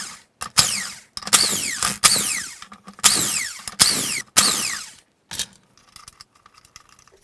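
Hand tools working on the rusty cylinder head of an old archaic engine, giving bursts of rapid ratcheting clicks in five or six runs, close and loud, followed by softer metallic clinks and taps.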